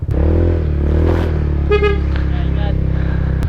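A motorcycle engine idles and revs up close and loud, with a steady low rumble throughout and a short horn-like tonal burst in the middle; a voice talks over it at times.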